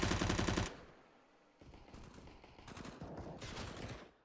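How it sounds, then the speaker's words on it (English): Short burst of SMG fire, UMP sprays in Counter-Strike on the Overpass map, a sharp rapid volley at the start followed by quieter, more distant crackling gunfire; no talking. "sprays come through from the UMPs, the SMGs, easy"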